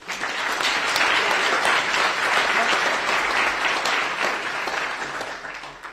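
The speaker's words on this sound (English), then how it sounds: "Let's give one more round of applause to this pastor in this church." Sustained applause from a large crowd in a church town hall meeting, steady dense clapping throughout, loud and continuous, tapering slightly at the end.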